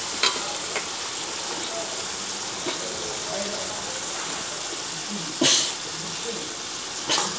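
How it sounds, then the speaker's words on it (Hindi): Boiled chickpeas going into a pan of cooked chole masala, which sizzles and fries steadily throughout, with a few sharp splashy bursts as they land. "उसके बाद ये चने डालो, चने डालते रहो"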